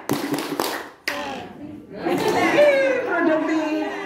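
A group of elderly people claps in a quick rhythmic pattern, several sharp hand bursts in a row followed by chatter and call-and-response voices.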